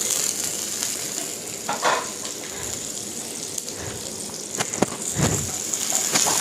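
Tomatoes go into onions frying in a pan for chicken kharda, giving a steady close sizzle with a few louder spitting bursts and stirring scrapes. No one speaks.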